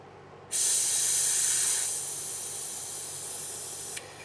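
Brake fluid sprays from an open bleeder valve on a boat trailer brake line: a sudden sharp hiss bursts in loud and close, then settles into a steady, slightly softer spray.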